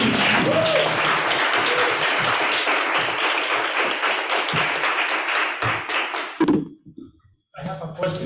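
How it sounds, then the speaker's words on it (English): Workshop participants at a conference give sustained applause, with loud, dense clapping near the listener and a few thumps. It fades and breaks off near the end, and voices follow. "give an applause to yourself"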